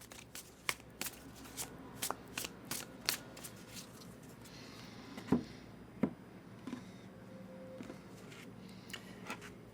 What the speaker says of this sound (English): give you a really good shuffle on the deck